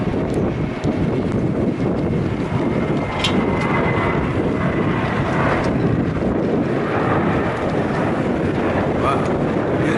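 Airplane engines roar steadily while passengers board a plane in Copenhagen, a loud continuous rumble buffeted by wind noise, with faint background voices mixed in.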